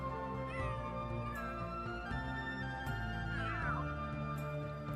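Several meows from a cat in The Sims 3 rise and fall in pitch, with a drawn-out, wavering cry near the end, over a faint steady background hum.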